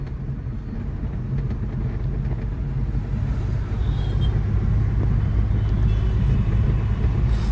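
Car driven steadily at 40–50 km/h on a broad road, a continuous loud engine and road rumble with wind noise, rising slightly in level, no talk.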